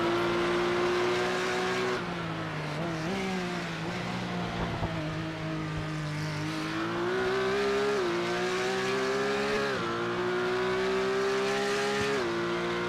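Porsche GT3 Cup race cars lap the Imola circuit with a loud, steady engine note that climbs in pitch through each gear and drops sharply at every upshift, one car heard up close and continuously.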